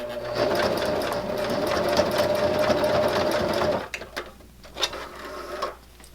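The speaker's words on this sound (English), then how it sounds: "we're going to stitch over our beginning stitches just to secure them in place" A sewing machine stitches steadily over the starting stitches of a fabric silverware pocket for about four seconds, then stops, leaving a few soft handling clicks and rustles.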